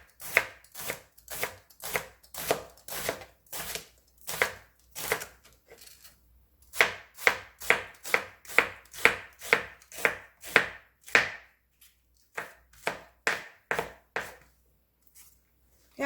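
Half a new onion chopped on a cutting board, a quick run of sharp knife taps in rapid bursts with short pauses, close and crisp, no talking.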